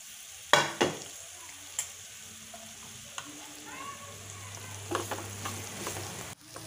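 Beetroot frying with chili and turmeric powder, stirred in a pan: quiet sizzling broken by clinks and scrapes of a spoon on the pan, close and sparse, with a faint hum.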